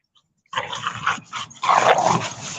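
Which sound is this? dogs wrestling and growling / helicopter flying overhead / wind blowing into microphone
dogs wrestling and growling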